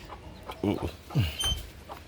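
A couple of chickens cluck briefly over a quiet outdoor background, with short low clucks spaced apart.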